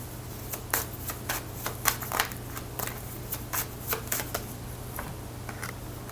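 Tarot cards shuffled and drawn by hand, a quick run of crisp slapping riffles and flicks in irregular bursts over a low steady hum, close and fairly quiet, with no talking.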